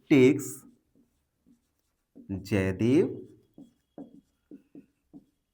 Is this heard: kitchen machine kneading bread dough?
no